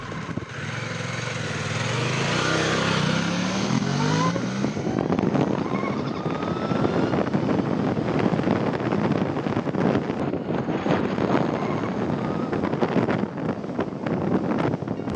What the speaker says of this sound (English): The electric whine of the LiveWire is actually quite satisfying to hear while accelerating up to speed.